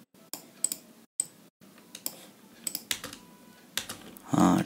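Computer keyboard keys pressed in a quiet room during After Effects animation work, a series of sharp, close clicks spaced irregularly with short pauses, ending in a slightly louder burst of clatter.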